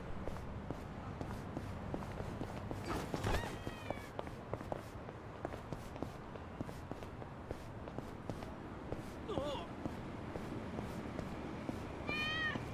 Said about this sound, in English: Thought I heard a cat just now.